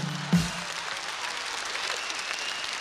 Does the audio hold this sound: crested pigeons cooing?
no